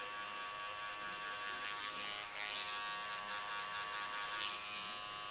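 Electric hair clippers fade hair, using only the corner of the blade in a small area, giving a faint, steady buzz that runs continuously with light scraping textures against the hair and no talking.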